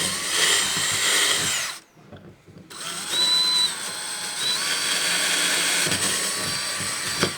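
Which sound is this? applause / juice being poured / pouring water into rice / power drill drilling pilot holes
power drill drilling pilot holes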